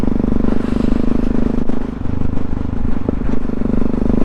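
Supermoto motorcycle engine chugging close by, a loud continuous low throbbing rumble with slight pulsing and a few clatters, no talk.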